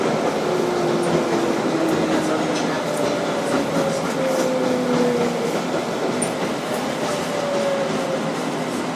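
Interior of a 2012 Kawasaki R-188 subway car on the 7 Flushing local in motion, a steady loud rumble with rising motor whine tones and faint rail clatter throughout.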